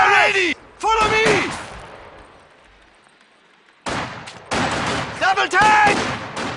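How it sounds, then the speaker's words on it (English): Company of Heroes 2 battle gunfire: sharp, loud volleys of rifle and machine-gun shots crack out at the start, then fade to a quiet gap before more heavy bursts resume. Clipped soldier voice lines sound between the shots. "Ivan is shooting at us!"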